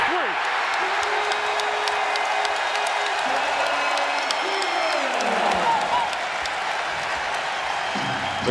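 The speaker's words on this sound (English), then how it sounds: "The crowd is alive." A roaring crowd fills the arena during a 2006 NBA first-round playoff game between the Miami Heat and Chicago Bulls; a broad, steady wash of cheering and applause carries under a commentator's voice and tonal sounds.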